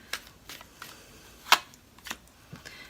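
Tarot cards being shuffled and drawn, a handful of crisp separate snaps and flicks close by and fairly quiet, the sharpest one in the middle, with no talking.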